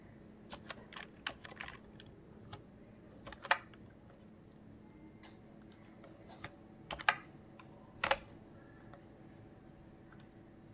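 Keys clatter on a computer keyboard as a formula is entered in an Excel spreadsheet, a steady run of close, crisp clicks with a few louder keystrokes and no talking.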